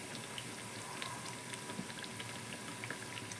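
Dal vada fritters frying in oil over a low flame produce a faint, even bubbling with scattered light pops and crackles, with no one speaking.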